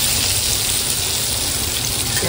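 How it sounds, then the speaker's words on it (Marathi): Surmai (kingfish) pieces sizzling in a frying pan, a dense continuous crackle of hot oil heard close and loud with no pauses. "आई तर सुरमई तळते"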